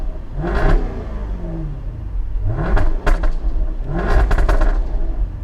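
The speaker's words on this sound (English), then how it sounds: "if you put it in dynamic mode, the valves open up and this car gets so rowdy." A 2016 Jaguar F-Type R in dynamic mode with its exhaust valves open gives three sharp, loud revs close by, each rising then falling away, with crackling pops and bangs on the overrun between them.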